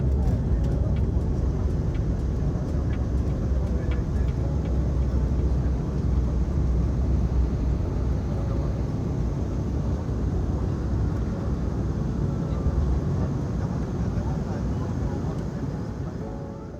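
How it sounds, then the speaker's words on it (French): Scoot Embraer E190-E2 airliner on its takeoff roll, a loud, steady low engine roar with broad rumbling noise that holds for many seconds and eases slightly near the end, with a voice faintly audible under it. "Et c'est parti pour le décollage."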